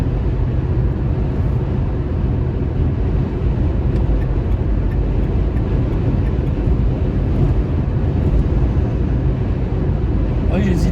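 Dacia Spring electric car cruising at about 110 km/h, with steady, loud low road and wind rumble filling the cabin throughout under intermittent talk.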